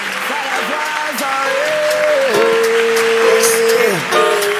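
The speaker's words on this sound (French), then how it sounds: "Les frères Sans, s'il vous plaît, on les applaudit." A studio audience on a Saturday entertainment show applauds a group of brothers, a loud, continuous round of clapping with voices calling and cheering over it.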